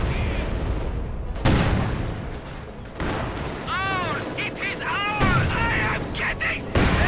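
Battle in Company of Heroes 2 with sharp gunfire bursts and a heavy panzerfaust hit among artillery booms, sudden loud impacts scattered over a rumbling mix, with a commentator talking over the action.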